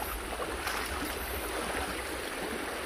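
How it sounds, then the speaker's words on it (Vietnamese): A stream flows steadily during a stream crossing, a continuous close rushing and gurgling of water that stays at an even level with no talk. "Vượt suối các bạn."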